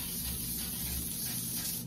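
A steady, continuous hiss of baking spray on a cake pan for about two seconds, close up and fairly even, with no talking.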